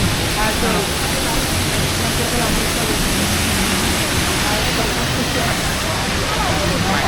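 Water pouring at a waterfall at a Thai tourist spot on a sunny day, a loud, dense, unbroken rush filling the whole stretch.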